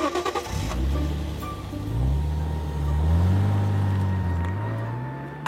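Car engine heard from inside or nearby as it pulls away and accelerates, the low hum rising and shifting through gears, steady and fairly close with no talking.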